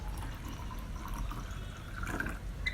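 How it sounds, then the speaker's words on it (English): Lukewarm water poured into a jar holding lemon juice, a steady trickling, splashing fill heard close up and continuous, with no voices. "Then I'm gonna add water into it. You can use hot or a cold water. Here I am using lukewarm water."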